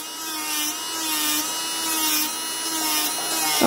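An electric nail file bit grinds a fingernail during a nail extension fill, giving a steady, close high-pitched whirring rasp with a constant motor whine and slight swells in loudness.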